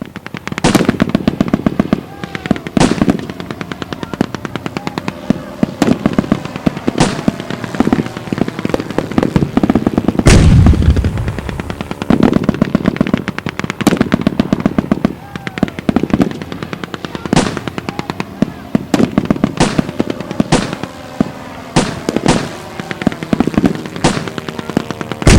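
Battle gunfire at a WW1 reenactment: rapid bursts of sharp, loud shots crack out repeatedly, with machine-gun-like strings and scattered single reports, one heavier boom midway, and a steady rumbling background throughout.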